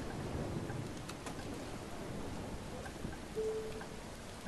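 Steady rain falls in the Bus Simulator 2021 driving game, a constant dense hiss with no talking, and a brief faint tone rises near the end.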